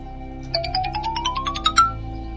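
A mobile phone ringtone plays loud and close for about a second and a half, a rising run of bright electronic notes, with no talk over it.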